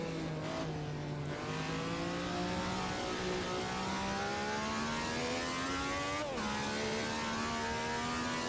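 A 1967 Honda F1 car engine revs hard in the Assetto Corsa game, one loud, steady high-pitched whine climbing through the gears, with a brief dip for a gear change near the end and no voice.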